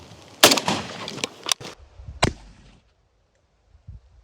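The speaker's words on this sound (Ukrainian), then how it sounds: "Постріл." A sharp, loud Kalashnikov rifle shot firing an armor-piercing 5.45 round cracks out near the start, followed by a few smaller impacts and clatter on armor, then quiet with faint thumps at the end.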